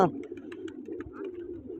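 Pigeons coo softly in a low, rolling murmur, with a brief sharper sound at the very start and faint chirps scattered over the top, fairly close and without speech.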